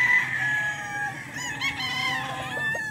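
On a farm's chicken area, a rooster crows among clucking chickens, the crowing fairly close and clear, with other birds calling softly around it.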